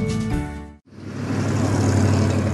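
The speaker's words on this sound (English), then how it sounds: "That's the sound of rush hour." Rush-hour road traffic makes a steady, dense roar of passing cars that fills the scene after a brief silent break, sustained and fairly loud with no individual vehicle standing out.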